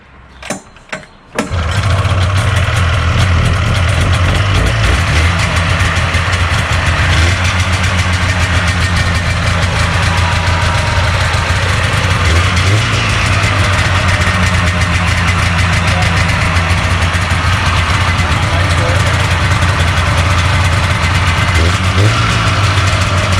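A Polaris Indy Sport 440cc snowmobile, an ice oval racing sled, pulled over with a couple of quick attempts, then catching and running at a loud, steady, buzzing idle close by.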